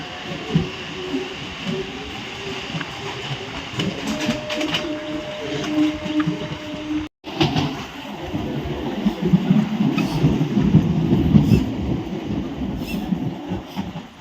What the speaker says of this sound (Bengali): সিঙ্গুর থেকে ট্রেন ছাড়লো